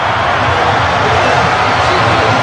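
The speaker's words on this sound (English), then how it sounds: "The crowd have gone wild." Dense, loud roar of a cricket stadium crowd cheering wildly during a record one-day international run chase between South Africa and Australia, a steady wall of noise with no break for its whole length.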